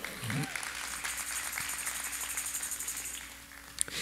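A Spanish-speaking church congregation applauds during a service, a fairly even wash of clapping that holds steadily and then thins out near the end, with a low steady hum beneath.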